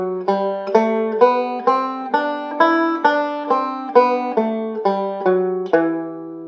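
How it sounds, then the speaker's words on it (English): Banjo plucks single notes one at a time with the thumb on a single string in a steady stepping rhythm, climbing through an E natural minor scale, bright and close, with no voices. "the E natural minor scale and a single string variation, we're going to use our thumb to"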